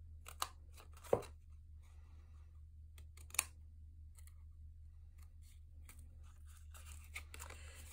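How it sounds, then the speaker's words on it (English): Scissors snip paper at close range in a few sharp, isolated cuts, with light handling rustles between them against a low steady hum. "Come in with your scissors and cut this outer rectangle out completely"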